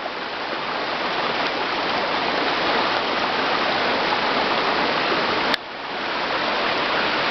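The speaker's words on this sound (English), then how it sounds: "So we're at the waterfall." A waterfall and stream pour out a loud, steady, close rushing roar with no talk, broken only by a sharp click and a momentary dip late on before the flow resumes.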